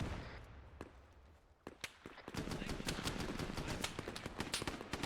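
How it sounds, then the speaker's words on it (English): Gunfire in the military video game Arma 3: a few isolated shots at first, then rapid bursts of automatic fire with sharp cracks, growing denser and louder over the final seconds. "We're taking shots from the north"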